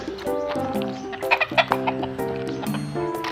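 Several fighting-breed gamecocks and hens cluck and squawk in a busy, overlapping chorus, fairly close, with sharper calls rising in the middle.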